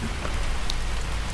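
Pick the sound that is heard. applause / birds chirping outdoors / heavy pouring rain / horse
heavy pouring rain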